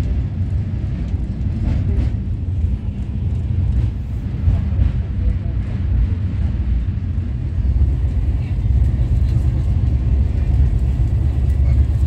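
Steady, loud low rumble and rattle of the Bengaluru–Howrah Duronto Express rolling across the Rupnarayan river bridge, continuous throughout with faint clicks of wheels over the rails.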